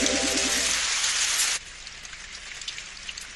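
Steady, dense rain hisses over a surface in a Doraemon cartoon scene, loud and close at first, then dropping suddenly to a lighter patter with scattered drops.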